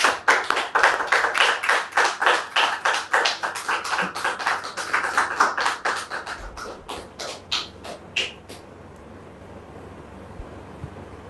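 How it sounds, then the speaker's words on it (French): A studio audience gives a guest, Mr. Topé Franck, a welcoming round of applause: loud, rhythmic unison claps in regular beats that slow, thin out and stop, leaving a quiet room tone. "Dame Topé, sous vos applaudissements,"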